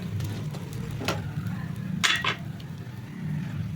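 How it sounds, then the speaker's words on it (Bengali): A pan lid comes off and a bread, egg and pizza slice is turned over in a frying pan, giving a few brief metallic clatters and scrapes over a low, steady cooking hiss. "আমি এবার ঢাকা খুলে দেখব ওপরটা হয়ে গেছে। তো এটাকে আমি পাল্টে দেবো।"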